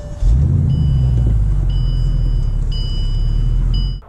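A 2014 Bentley Continental GTC Mulliner engine cranks and fires, then settles into a loud, steady low idle rumble while a chime beeps in a repeating pattern.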